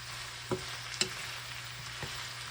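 Chopped onions sautéing in a pan for an Asian shrimp and noodle stir fry, a soft steady sizzle with a few light scrapes of stirring, quiet and close, no talking.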